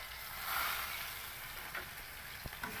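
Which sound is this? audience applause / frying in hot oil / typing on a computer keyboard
frying in hot oil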